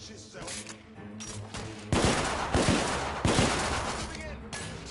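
Gunfire in the video game The Order: 1886: sustained loud volleys of rapid shots, close and dense, swelling into heavier bursts midway with a few distinct sharp cracks, under brief game speech.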